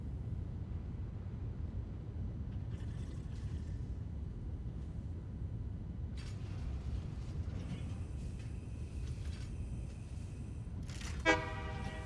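A train in the Satisfactory video game rumbles along under a steady low drone, sounding its horn in a few tones and ending with a rapid series of pulsing beeps.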